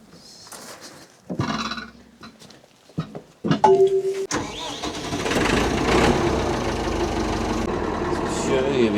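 A Volvo car engine cranks and catches after some handling noises and speech, then idles and runs steadily at close range with a low, even rumble.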